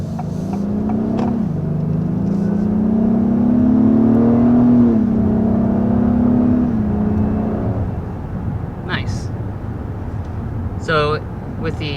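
A 2022 Acura MDX Advance pulls away in dynamic mode, its engine note rising and holding in a smooth, even drone heard from inside the cabin. It fades back after several seconds, and a voice speaks briefly near the end.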